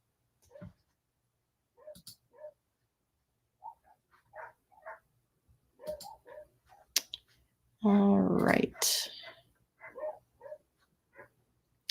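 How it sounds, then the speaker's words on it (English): Pet dogs barking outdoors, heard from indoors as sharp, scattered yelps spread through the stretch with one louder burst near the end, while a person speaks briefly. "my dogs are going crazy outside"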